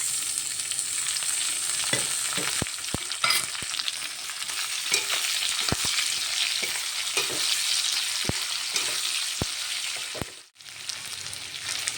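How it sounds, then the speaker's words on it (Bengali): Chopped onions frying in hot oil with dried fish, a steady close sizzle with sharp clicks from a stirring spoon scattered throughout and a brief drop near the end. "মাছটা ভাজা হয়ে গেছে, এবার এর মধ্যে আমি কুচনো পেঁয়াজটা দিয়ে দেবো।"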